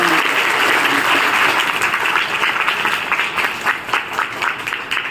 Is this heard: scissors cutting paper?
no